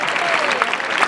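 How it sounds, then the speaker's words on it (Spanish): Applause for four bullfighters at a recortes contest in Aldeadávila: a steady crowd clapping throughout, dense and even at close range, with a faint voice over it. "Fuerte el aplauso para estos cuatro toreros a cuerpo limpio"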